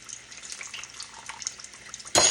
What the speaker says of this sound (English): Look how much water I'm going to put in.